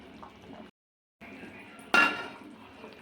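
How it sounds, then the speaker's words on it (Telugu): A lid goes onto a pot of cooking tomato dal, a single sharp metallic clink that rings briefly after a low background of kitchen noise and a short dropout. "కొద్దిసేపు ఇట్లా పెడదాం మూత ఉడుకుతుంది"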